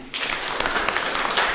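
A church congregation applauds during a Sunday sermon, a steady wash of clapping that starts abruptly and holds evenly at close range throughout.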